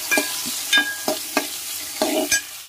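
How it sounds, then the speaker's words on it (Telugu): Small onion pieces frying with garlic in a pan for a drumstick pulusu, a steady close sizzle broken by several scraping stirs of a spoon. "ఈ వెల్లుల్లిపాయలు వేగిన తర్వాత కొన్ని చిన్న ఉల్లిపాయ ముక్కలండి."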